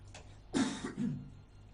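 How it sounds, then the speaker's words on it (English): A single faint, muffled cough with a short throaty follow-up, heard against a low background hum. "That cough again."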